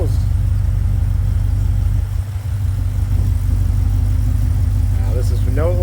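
A Cadillac CTS-V with an aftermarket full exhaust idles with its valves closed, a steady close low rumble that briefly dips and lumps unevenly, running without O2 sensors connected.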